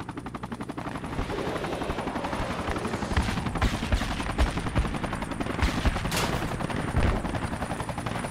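A helicopter in Project Reality beats with a rapid, steady rotor thump, mixed with bursts of distant machine-gun fire across the whole stretch and no one speaking.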